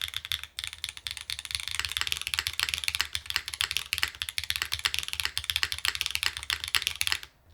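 Fast typing on a Fragment TKL mechanical keyboard with pre-lubricated switches: a dense, continuous stream of close, crisp clacks and thocks with brief pauses, steady for several seconds and unaccompanied by speech.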